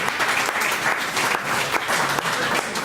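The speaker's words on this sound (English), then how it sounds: "Round of applause." A large audience applauds at a business award ceremony where prizes are being handed out, a dense, steady burst of clapping filling the room for the full few seconds.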